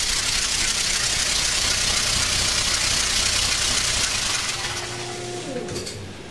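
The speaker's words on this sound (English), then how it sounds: "About 465 RPM, that's about what it takes to start an engine with a starter." A Pontiac 389 V8 turns over at about 465 RPM on a sim tester, a loud, dense, continuous mechanical roar and clatter that holds steady, then eases slightly and changes tone near the end.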